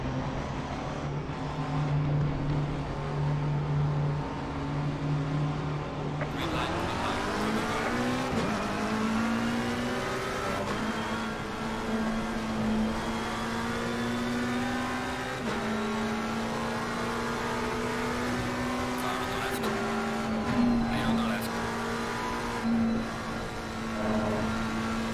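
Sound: McLaren 720S GT3 racing at Silverstone, Assetto Corsa Competizione video game

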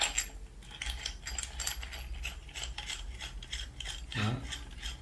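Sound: unscrewing the screw on a solar fan's stand pole

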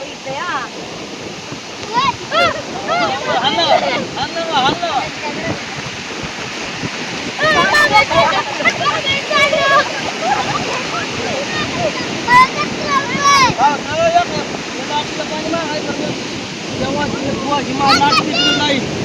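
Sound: sea waves on beach

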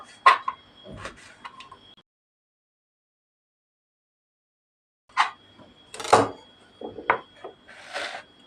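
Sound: chopping tomatoes

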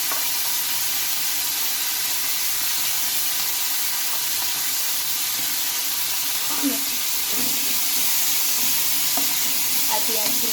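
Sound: frying garlic, green chili and onion with potatoes

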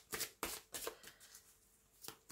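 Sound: handling playing cards

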